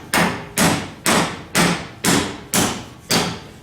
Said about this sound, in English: I'm going to take a little hammer to the vice grips.